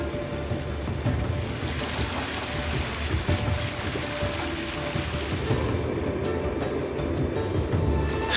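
Light rain falls at sea under heavy overcast with a fast-running current, a steady soft hiss of drops over a low broadband wash of water, continuous and fairly even with no talk.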